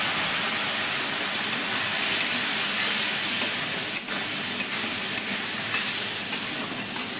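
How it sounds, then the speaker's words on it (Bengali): Spice masala of cumin, coriander and chilli powder with a splash of water frying in a pan for a fish curry, a loud dense hissing sizzle with occasional stirring scrapes, close and continuous, no talk. "ভালো করে কষিয়ে নেব মশলাটাকে।"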